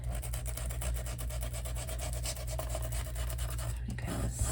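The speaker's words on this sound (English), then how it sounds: "I kind of sand some of this off here." A sanding block rubbed over paper for a junk journal craft project, producing steady, close rasping strokes in a quick repeating rhythm with no talk.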